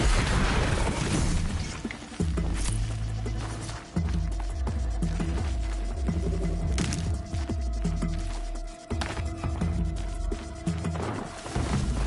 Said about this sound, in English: Explosions and shouts from outside the Embrace.